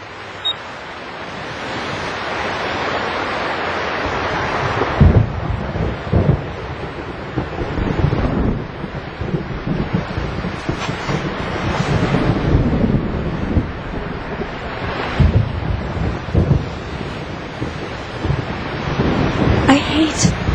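Surf rolls onto an artificial beach in Xenosaga under a steady gusting wind, with periodic swelling crashes and low rumbles across a continuous, moderately loud wash of noise.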